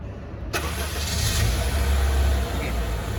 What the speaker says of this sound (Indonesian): Coba saya hidupin mesinnya.